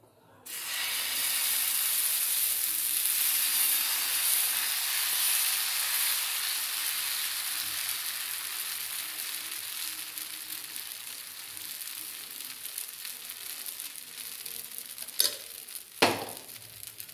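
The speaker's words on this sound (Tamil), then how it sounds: "இன்னொரு தோசையும் கூட ஊற்றி காமிக்கிறேன்" Black kavuni rice dosa batter sizzles loudly and steadily on a hot pan, a broad hiss that fades slowly, with a couple of brief knocks near the end.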